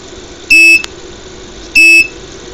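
A buzzer on an ESP32 project board gives two short, loud, shrill beeps about a second apart over a steady electronic hum.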